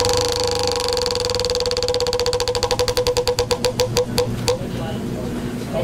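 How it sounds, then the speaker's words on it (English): A prize wheel spun at a drawing event, its pointer ticking rapidly at first and slowing into spaced clicks before stopping, loud and close over a steady background hum. "Step right up and give the wheel a couple spins."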